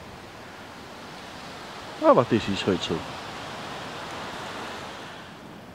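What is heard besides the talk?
strong wind on a mountain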